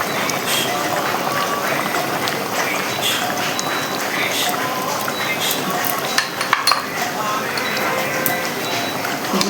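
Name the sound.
spoon stirring ghee in a pan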